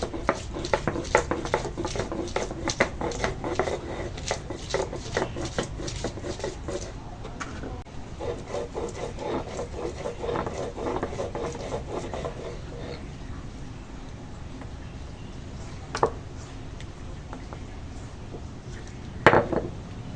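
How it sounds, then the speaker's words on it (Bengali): Ginger and garlic being ground into paste in a home kitchen, a steady run of rhythmic scraping and knocking strokes for about twelve seconds, then quieter with two sharp isolated knocks near the end. "এখন আদা রসুন বেটে নেবো"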